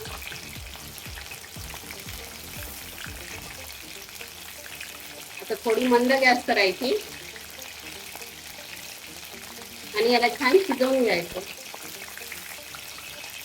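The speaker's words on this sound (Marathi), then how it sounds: "सोयाबीन मध्ये पाणी असल्यामुळे हे तडतड वाजत आहे" Soybean pakoras crackle in hot oil on a low gas flame, a steady fine sizzle with sputtering bursts as moisture pops, running under a woman's speech close by.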